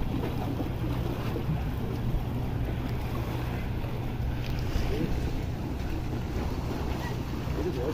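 Constant wind rushing and the low wash of sea waves at the shore at Lei Yue Mun, Hong Kong, a steady outdoor roar with no pauses.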